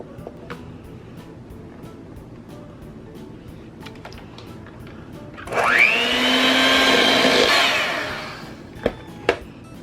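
An electric mixer beating cream cheese for a banana pudding cheesecake whirs up loudly, runs steadily for a couple of seconds, then winds down, with faint kitchen clicks and two sharp knocks after.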